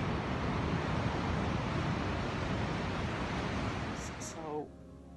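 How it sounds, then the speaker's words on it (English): Steady broadband wash of surf on a New Zealand beach, loud and continuous, with a brief softer gap near the end where a faint voice-like tone rises. "Its favourite place, the beach."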